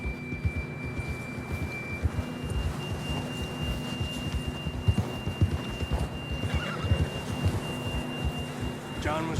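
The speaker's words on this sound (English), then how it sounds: "John was riding that horse when we left Blackwater" A horse in a video game whinnies, its hooves clip-clopping steadily throughout, while a thin electronic tone holds in the background.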